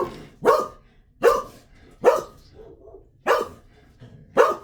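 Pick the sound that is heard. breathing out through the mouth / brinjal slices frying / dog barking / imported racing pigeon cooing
dog barking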